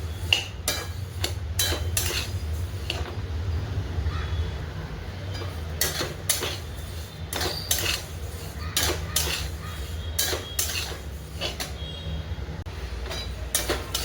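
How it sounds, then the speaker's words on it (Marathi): Fennel seeds and white sesame dry-roast in a pan, with repeated sharp scraping and clattering of stirring against the metal over a low background rumble. "त्यावर पांढरे तीळ आणि बडीशेप छान असं खरपूस भाजायचं"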